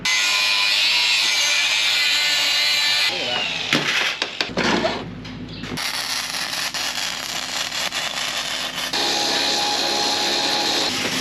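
An angle grinder cuts into a steel chassis rail in an outback workshop, a loud, sustained high whine that shifts pitch partway through as the disc bites and then frees up.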